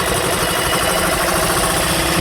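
A fishing boat engine runs loud and close at sea, with a continuous rumbling drone and a rapid mechanical chug.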